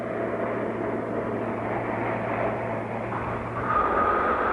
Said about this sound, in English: The sound of jet engines and the thump of the world's largest skis